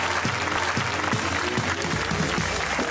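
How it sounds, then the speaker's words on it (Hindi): A studio audience at a televised comedy talk show breaks into loud, dense applause, with many hands clapping continuously and evenly throughout, close and full with no pause. "तालियां होनी चाहिए, बहुत अच्छा खेला इन सबने"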